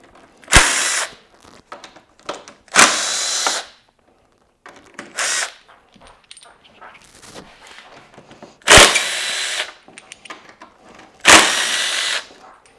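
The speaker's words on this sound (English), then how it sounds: "we're going to pull the cargo net holding bolts off the back" A ratchet or power tool removes cargo net bolts from the rear rack of a Yamaha T7 motorcycle, five loud bursts of whirring ratcheting about two seconds apart, with light clicks and handling noise between.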